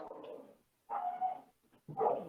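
A dog barks outside through an open door, three separate bursts of barking at a moderate distance with short gaps between them.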